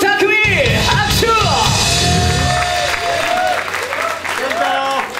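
Audience applause at a live comedy club show, dense clapping under loud yells, whoops and cheering from a crowd, with a host's voice rising over it.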